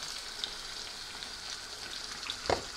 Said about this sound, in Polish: I wlewamy teraz pomidory.